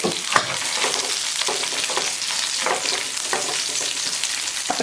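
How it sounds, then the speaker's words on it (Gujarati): Onions sauté over a medium flame in a pan for a brinjal and potato curry, giving a loud, continuous sizzle and crackle, up close, with occasional stirring scrapes. "મિનિટ સુધી આમ જ ઓનિયનને સાંતળીશું મીડિયમ આંચે"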